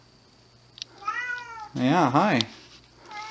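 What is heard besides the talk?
cat meowing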